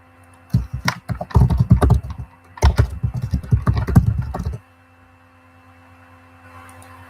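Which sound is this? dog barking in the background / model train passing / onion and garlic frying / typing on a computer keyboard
typing on a computer keyboard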